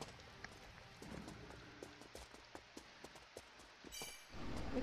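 Horse hooves clop in a steady rhythmic gait in the video game Runes of Magic during a siege battle, faint and thin, with a brief bright game effect near the end.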